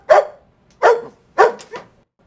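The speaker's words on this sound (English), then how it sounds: "here we have a dog" A dog barks four times in an irregular rhythm, loud and close, each bark short and sharp with a smaller fourth yip, with quiet gaps between.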